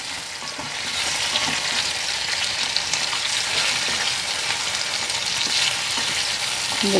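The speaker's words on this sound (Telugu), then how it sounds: "నూనె వేసుకుని వీటిని ఎర్రగా అయ్యేలాగా జాగ్రత్తగా విడిపోకుండా చక్కగా ఎర్రగా అయ్యేలా వేయించాలి" Pieces of raw banana frying in a generous amount of oil, a steady dense sizzle and crackle that holds close and even throughout, with occasional faint stirring clinks and no voices.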